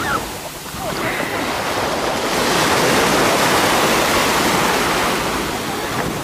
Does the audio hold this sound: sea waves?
yes